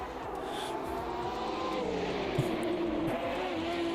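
Race cars in the AMS2 sim racing game heard from outside the car, a loud continuous engine roar with pitch sweeping up and down as cars pass, steady and dense throughout with no talk.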